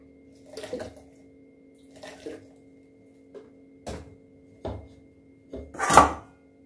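Cold water splashed over freshly churned cream while making homemade ghee, a few soft, irregular sloshes and splashes spread out over several seconds, the last one the loudest, over a faint steady hum.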